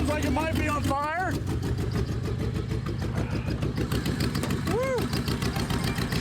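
A Lincoln 4x4 truck engine runs roughly with a deep, diesel-like rumble, steady and loud throughout, while a voice whoops over it partway and other voices chatter in the background.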